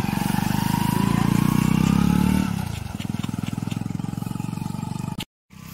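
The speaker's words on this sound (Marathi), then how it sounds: "अशा प्रकारे बाईक वरून ओझी घेऊन जातात बघा" A motorcycle carrying loads passes close by on a village road, its engine droning loudly and then dropping to a rougher, throbbing idle-like chug as it moves away.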